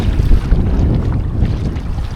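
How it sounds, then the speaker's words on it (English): A canoe paddled hard through stormy wind on Lake Rogen, heard as heavy wind buffeting and low rumbling water noise with rhythmic splashes close by. "Some of the hardest canoeing I've ever done, I'm paddling for all I'm worth."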